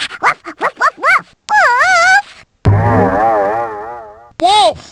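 A voice imitates a dog barking, a quick run of short yapping woofs followed by longer drawn-out howling barks, loud and close with brief gaps between bursts.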